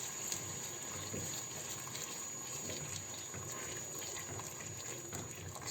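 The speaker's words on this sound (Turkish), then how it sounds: "İçerisine yavaş yavaş su ilave ediyoruz." Water poured slowly into a pot of boiled chicken for Turkish yüksük soup gives a steady, unbroken wash of running liquid, fairly quiet and even throughout.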